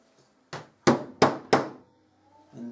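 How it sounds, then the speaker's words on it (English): A leatherworking hammer purpose-built for pricking irons strikes four sharp, evenly spaced taps on the tool, each ringing briefly, close and loud, with quiet handling before and after. "what a difference a good hammer, the right tool for the job"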